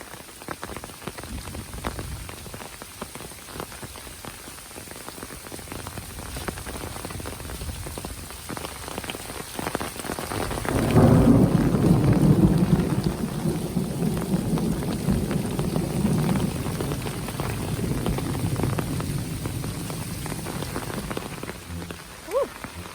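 Steady rain pattering on surfaces in a planted pine forest along the Florida Trail, with a deep rolling rumble of thunder swelling midway and lingering under the downpour.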